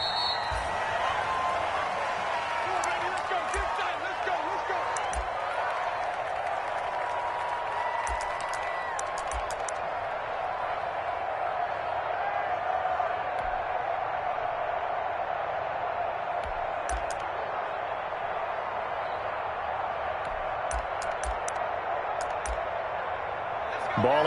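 A stadium crowd roars steadily in a Madden NFL video game match between the Cincinnati Bengals and the Pittsburgh Steelers, a broad, continuous wash of cheering with scattered claps and thumps throughout and commentary heard over it.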